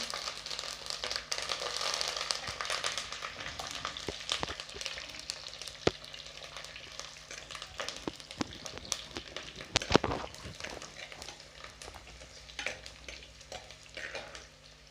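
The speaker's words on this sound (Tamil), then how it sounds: "இப்போ வந்து பூண்டு வந்து லேசாக வதங்கிருச்சு" Peeled garlic and curry leaves frying in a pan for a dried anchovy curry, a low continuous sizzle with scattered crackles and occasional stirring scrapes, fairly quiet and close, no voices.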